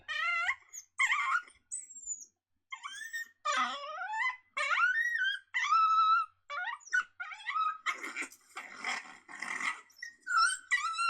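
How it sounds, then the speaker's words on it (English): Coyote pup growling from a predator call sound pack, a long series of whining, wavering growls and whimpers in short bursts with brief gaps, close and clear with no voices. "I like hearing coyotes growl."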